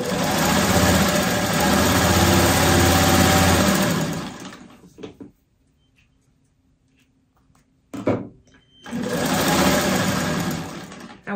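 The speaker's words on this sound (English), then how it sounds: "we're going to sew those rows together" A sewing machine stitches quilt block rows together with a rapid, close, steady mechanical hum for about four seconds, then a pause and a short clunk before the motor runs again steadily at the end.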